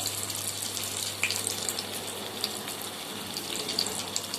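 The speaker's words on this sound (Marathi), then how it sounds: "आता आपण छान दोन्ही बाजूनी वडे तळून घेणार आहे, छान कुरकुरीत होईपर्यंत." Steady hissing and crackling of vadas deep-frying in hot oil, close and continuous, with faint bubbling.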